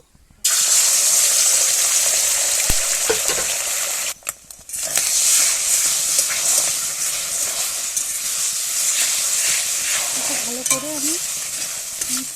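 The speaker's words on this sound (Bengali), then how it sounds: "দিয়ে দিচ্ছে সাদা তেল দিয়ে ডিমটাকে ভুজিয়ার মতো করে নেব" Egg frying in white oil in a hot wok sizzles loudly and steadily, with hissing steam and occasional stirring scrapes, and a brief pause partway through.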